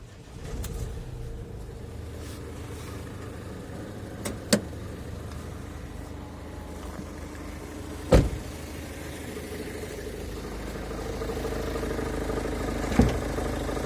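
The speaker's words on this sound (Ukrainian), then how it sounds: "Чисто працює мотор, без всяких проблем." A 2018 Renault Master van's diesel engine idles steadily nearby with a low, even hum, broken by a few sharp clicks or knocks.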